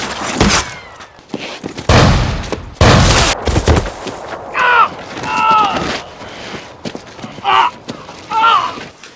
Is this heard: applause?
no